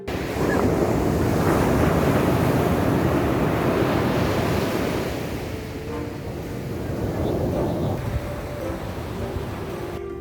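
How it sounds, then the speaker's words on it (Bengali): Sea waves roll onto Puri beach, a loud continuous surf roar with wind buffeting close to the microphone, easing slightly midway before building again. "এখানে বসে শুধু ঢেউয়ের শব্দ শোনায় এক ধরনের মোটিভেটিভ থেরাপি"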